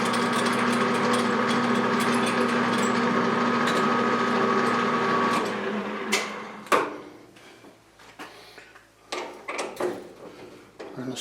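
A drill press boring a hole in metal for a motorcycle shock tool, a steady loud whirring hum for about five seconds, then spinning down into scattered clanks, taps and handling knocks of tools on a bench.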